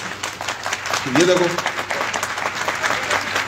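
An audience claps at a team gathering in Bengal, with broad steady applause running the whole way through while someone speaks over it.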